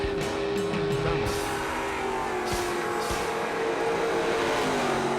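A drag racing car's engine gives a loud, steady roar throughout, with rising revs near the start and a constant mechanical drone, no talking.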